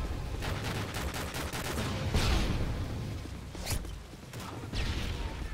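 Gunfire from a gun in an Infected-mode shooter game: a rapid burst of close, sharp shots early on, followed by scattered single shots and short bursts over a low rumble.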